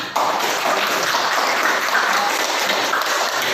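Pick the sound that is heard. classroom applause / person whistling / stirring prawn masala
classroom applause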